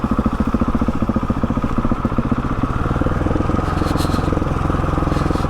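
A Husqvarna 701 Enduro single-cylinder engine putters steadily in first gear while engine braking down the steep Hardknott Pass, a close, rapid pulsing thump with no voices.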